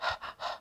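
A voice imitates heavy panting, with three quick, breathy gasps in a steady rhythm, close and fairly soft.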